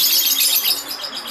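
Several caged lovebirds, lined up side by side in the evening, chirp in a busy, overlapping stream of shrill, high-pitched calls, close and fairly loud, with no speech.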